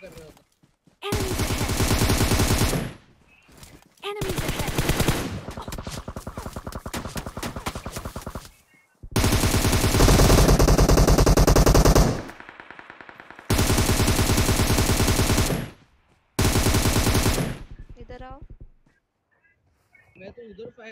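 Bursts of automatic gunfire in PUBG Mobile fired blindly through fog on the Sanhok map, several loud sustained volleys of a few seconds each separated by short pauses.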